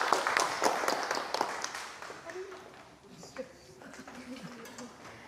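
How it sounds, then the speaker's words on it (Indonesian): Classroom applause at a vocational high school, a burst of many hands clapping loudly at first and then thinning out, with scattered voices and murmuring underneath as it fades. "Yuk, silakan tepuk tangan semuanya."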